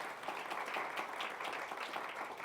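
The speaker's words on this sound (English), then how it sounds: "Definitely a round of applause." Members of a garden club meeting give a round of applause, a steady wash of clapping from a room audience, moderately distant and even throughout.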